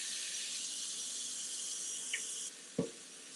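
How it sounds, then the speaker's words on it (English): Steady hiss of water running from a kitchen tap during handwashing while cooking, a continuous close wash of sound lasting throughout, with a brief click and a soft thump near the end. "now I have to wash my hands a little bit"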